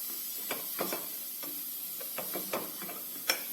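Flour being stirred in a pot while making flour soup gives soft, irregular scraping taps and light clicks of the spoon against the pot, quiet and close with no talking.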